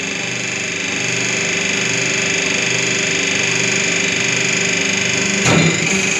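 A semi-automatic single-die hydraulic paper plate making machine runs with a steady mechanical hum and whine, then gives a short, louder press thump near the end as the plate is formed.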